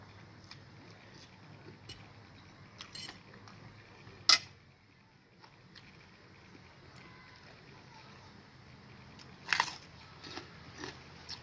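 Biting into crisp, fresh home-grown paprika picked from a backyard garden, with two sharp crunches several seconds apart over a quiet room background.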